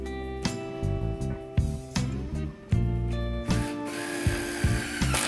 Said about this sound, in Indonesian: Cordless drill akan saya fungsikan sebagai bor.